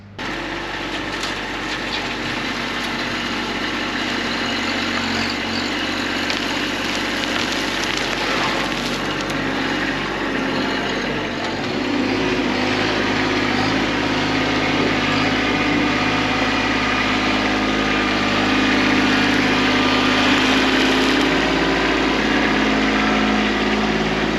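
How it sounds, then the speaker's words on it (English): A Kubota tractor's engine runs steadily while backfilling a waterline trench, a continuous mid-loud drone with no talking over it. "hop on the Kubota, backfill this"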